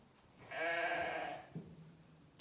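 A sheep in a barn gives one clear, wavering bleat lasting about a second, close and fairly loud, followed by quiet barn sounds and a soft thump.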